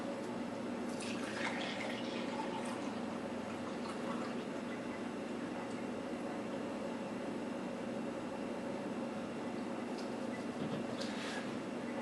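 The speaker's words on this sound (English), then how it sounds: "I'm going to pour out 2 cups, and 2 cups is 16 ounces." A steady stream of juice pours into a container, about two cups for homemade wine, a continuous even splashing that holds for several seconds, close by and fairly quiet.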